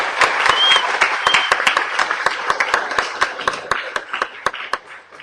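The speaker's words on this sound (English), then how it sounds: "So round of applause for our sponsors." An event audience applauds its sponsors with a dense burst of hand claps, a few sharp individual claps standing out above the crowd before the applause tapers off.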